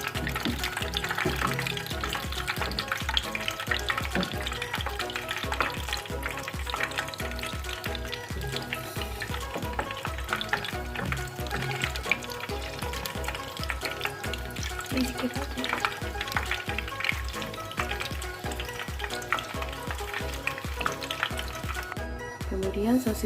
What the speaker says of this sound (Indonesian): Kemudian kita akan menggoreng sosisnya terlebih dahulu.